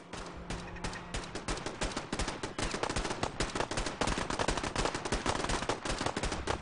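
Rapid gunfire in the Fallout 4 video game, a dense stream of sharp automatic shots firing in quick succession for several seconds, starting sparse and building to a steady, continuous burst.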